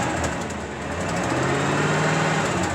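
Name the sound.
1987 Ford F450 truck engine running after cold start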